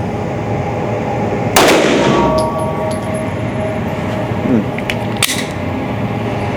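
A Ruger RXM pistol fires one sharp, loud shot that rings out over a steady background hum, followed a few seconds later by a fainter second report.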